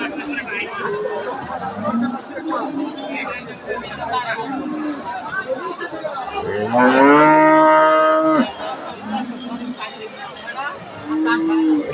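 Holstein Friesian dairy cow at a cattle sale lowing loudly in one long, drawn-out moo mid-clip, with people chattering around it before and after.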